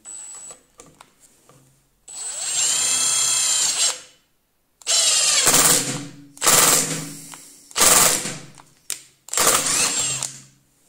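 A Milwaukee M18 FIW2F12 cordless impact wrench on a 5 Ah battery drives a 3.5x45 wood screw in several bursts, with whining motor runs followed by rapid hammering, loud and close, with short pauses between bursts.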